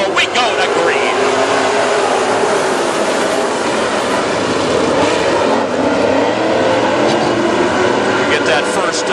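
WISSOTA Super Stock race cars roar around Princeton Speedway in a loud, continuous, dense engine drone, with cars passing close throughout.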